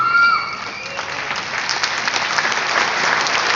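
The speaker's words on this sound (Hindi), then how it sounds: "अनुच्छेद 370 हटने के समर्थन में जितने लोग केवल उनकी तालियां देखना चाहता हूं" An audience at a poetry recital in Bihar applauds in support of removing Article 370, a steady crowd of many hands clapping that builds after a brief voice at the start and continues evenly.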